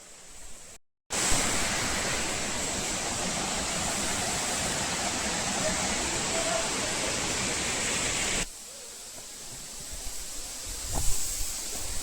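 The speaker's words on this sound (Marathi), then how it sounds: "पण फायनली वॉटरफॉल भेटलं, मोठी गोष्ट आहे" Dharkhora Waterfall pours in a loud, steady broadband roar that runs unbroken for most of the stretch, then drops to a softer, more distant rush with a few small knocks near the end.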